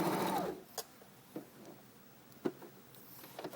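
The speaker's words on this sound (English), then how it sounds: "the machine's going to go backwards first and do the left-hand side of the buttonhole" A Janome Sewist 500 sewing machine stitches an automatic buttonhole, first running backwards along the left-hand side. A brief whir opens, followed by sparse, quiet mechanical ticks and clicks.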